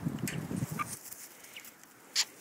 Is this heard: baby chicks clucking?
yes